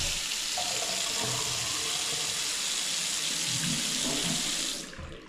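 A bathroom tap runs steadily into a small sink beside an off-white tub, a loud close continuous gush of water that tapers off as it shuts at the end.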